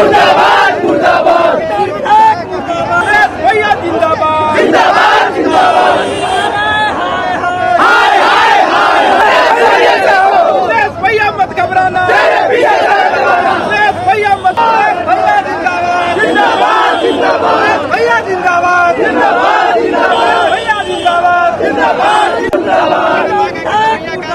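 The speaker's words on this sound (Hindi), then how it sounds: "ये तस्वीरें राबड़ी आवास के बाहर के आपको दिखा रहे हैं, जहां पे नारेबाजी चल रही है जम करके" A large crowd chants political slogans outside the Rabri residence, loud and continuous with overlapping shouted voices and rhythmic cries of support, dense and close throughout.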